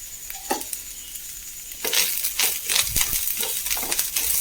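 Coconut, fennel seeds and spices roast dry in a pan, with quiet crackling, then a run of scraping, rustling spatula strokes close by.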